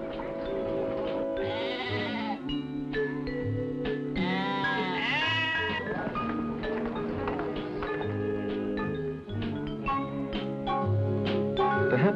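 Sheep bleating in New Zealand, several wavering calls overlapping across the clip at moderate distance, heard over a background of music-like sustained tones.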